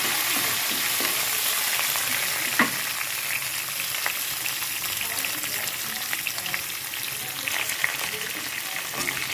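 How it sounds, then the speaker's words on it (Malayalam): Curry leaves crackle and fry in hot oil while pickle is being made, a steady close sizzle sprinkled with sharp pops and light stirring clicks, no one speaking. "ഇതിലേക്ക് നമുക്ക് കുറച്ച് കറിവേപ്പിലയും കൂടി ഇടാം."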